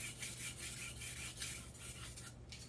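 A knife drawn across a sharpening stone, a soft rhythmic rasping stroke repeating steadily and close, with no voices.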